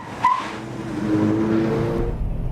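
A 2012 Subaru WRX STI on a test track at the start of a figure-8 test, a brief clunk then a steady engine drone with rising tone as it accelerates, no talk.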